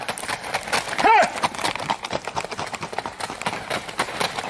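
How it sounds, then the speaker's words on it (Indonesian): A toy horse being cleaned of mud makes quick clip-clop hoof beats and a short whinny, close and loud, while a voice speaks alongside. "Ternyata ini kuda."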